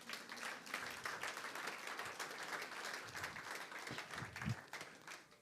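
A church congregation breaks into applause, a continuous patter of many hands clapping at moderate distance, fairly soft and steady with a few louder claps near the end.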